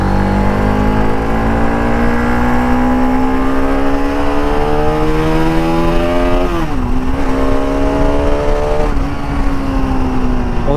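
A Bajaj Pulsar RS200 motorcycle engine roars loud and close, its revs climbing steadily, then dipping briefly twice before building again, with no talk over it.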